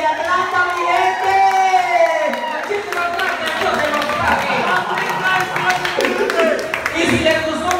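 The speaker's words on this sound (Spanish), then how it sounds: "Este aplauso para Martina, que viene directamente de Atlanta, mi gente." Club crowd at Club Azúcar in Atlanta claps and cheers for a performer, loud whoops and shouts mixing with clapping and a few voices calling out throughout.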